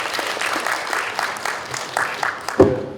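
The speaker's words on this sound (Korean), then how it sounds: "힘찬 박수를 부탁드리겠습니다" Applause from the audience at the close of a forum on cooperation between prime contractors and subcontractors. It comes as a steady, moderately loud patter of many hands that carries on for the whole stretch.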